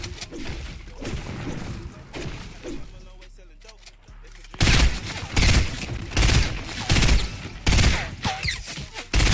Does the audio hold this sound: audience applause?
no